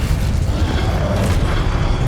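Incendio, the fire spell in Hogwarts Legacy, goes off as a dense, low rumbling burst that roars steadily for about two seconds, loud and close with no talking.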